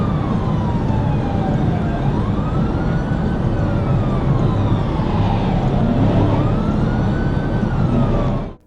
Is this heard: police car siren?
yes